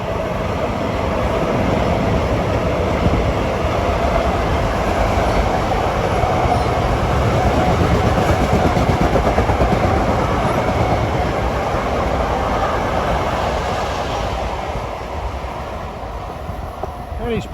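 Commuter train 2058 to Ronkonkoma rolls past, picking up speed after a station stop, with a loud continuous roar and rail rattle that holds steady before easing slightly near the end.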